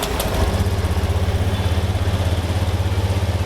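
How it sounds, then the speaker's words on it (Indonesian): An engine being tuned for a turbo setup with a Juken 5 Pro injector tester connected idles steadily and close by, a continuous low rhythmic throb with no talk over it. "Mesin kita hidupkan."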